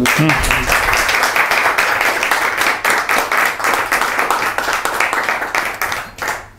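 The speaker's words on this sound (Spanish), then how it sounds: "Muchas gracias y un aplauso por" Loud, sustained audience applause at the close of a talk by a writer, dense clapping running steadily for several seconds before thinning out near the end.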